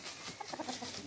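Chickens clucking in a backyard coop, a few soft, short calls in a loose irregular run, fairly close and moderately quiet over a steady background hiss, with no talking.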